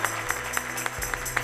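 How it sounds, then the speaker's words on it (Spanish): A church congregation applauds the Lord during a Spanish-language service, giving fairly faint, continuous clapping with a loose rhythmic pulse of sharper claps over a steady low hum. "Dale un aplauso al Señor con todo tu corazón."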